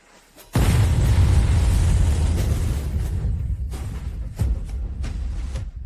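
A loud explosion bursts suddenly and rolls on as a deep, sustained roar with rumbling bumps, set near dense tree cover.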